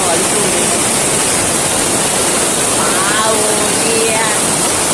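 A waterfall along a trail roars as a constant, loud, broadband rush that fills the whole stretch. Faint voices and whistle-like tones sit under it.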